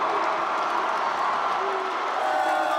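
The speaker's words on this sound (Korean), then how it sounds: "발표될 때마다 전당대회장은 환호로 가득 찼습니다" At a party convention hall, a crowd cheers the vote results with a steady, dense roar of cheering and applause. A faint voice carries over it.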